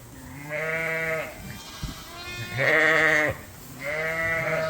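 Sheep bleat in a lambing barn, three long wavering calls at close range with a short pause between them, no talk over them.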